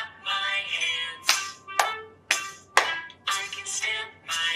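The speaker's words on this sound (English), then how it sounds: "I can clap my hands." Hands clap at a family event, giving a few sharp, evenly spaced claps close by, mixed with a voice singing or chanting over them.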